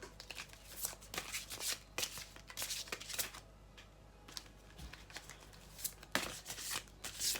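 Tarot cards are shuffled close up in repeated quick riffling bursts with short pauses between them, soft and alone with no talking.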